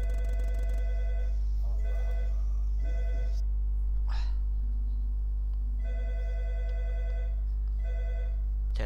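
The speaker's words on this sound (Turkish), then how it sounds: "Telefon çalıyor." Telephone ringing in the Human Simulator video game, a repeating electronic ring in regular bursts with short pauses, heard over a constant low hum and game tones.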